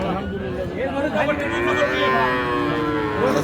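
Holstein Friesian cross cattle at a cattle market low in a long, drawn-out moo, loud and close over a steady background of crowd noise.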